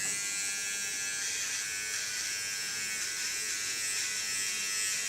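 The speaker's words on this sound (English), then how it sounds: "Okay, gonna work with my small clipper." A small electric hair clipper buzzes continuously and steadily at close range, cutting ultra-short hair with the blade held upside down, with no talking over it.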